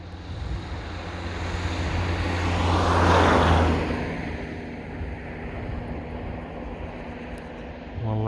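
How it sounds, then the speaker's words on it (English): A car approaches and passes along an outdoor road, swelling to a broad whoosh at its closest and fading away, with steady wind buffeting the microphone throughout. "Have a car coming."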